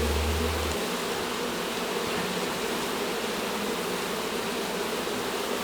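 Honeybees swarming loudly as comb is pulled out of a hive inside a house wall, an intense, unbroken close-up buzz filling the whole stretch, with a low rumble at the very start and no voices.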